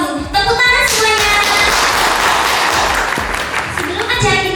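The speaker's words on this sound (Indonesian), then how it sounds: "Tepuk tangan semuanya." An audience at a stage event claps in a burst of applause, with voices talking over the clapping throughout.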